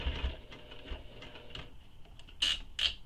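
A sewing machine stitching a handbag, running in short bursts with a steady mechanical hum and two sharper clattering spurts near the end, heard close up with no talking.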